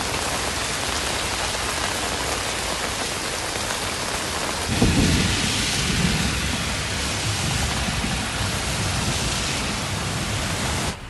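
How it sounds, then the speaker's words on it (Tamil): A thunderstorm brings dense, steady rain hissing down throughout, with a deep thunder rumble rolling in midway and fading back into the downpour, no voices present. "இடியுடன் கூடிய மழை பெய்தது"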